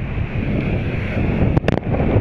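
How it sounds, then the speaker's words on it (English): Storm surf at Acadia National Park on the Maine coast during a January storm, a continuous loud roar of crashing waves buffeted by heavy wind noise, with a few sharp splashes or gusts near the end. "insane these waves are, how unusual this is for Acadia National Park"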